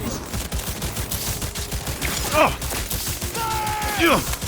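Cyberpunk 2077 combat: rapid continuous gunfire rattles throughout, with a couple of metallic whooshing, falling sweeps near the end, dense and loud.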